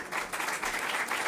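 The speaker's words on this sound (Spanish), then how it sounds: "Dejo unos segundos para aplausos porque lo merece." An audience at an exhibition event applauds with a dense, steady wash of clapping throughout, fairly loud and close, with no talk over it.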